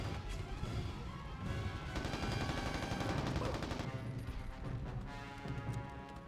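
Sustained game gunfire from Mercenaries: Playground of Destruction, dense overlapping shots and bursts with booming impacts, continuous and loud throughout with a busy battle mix.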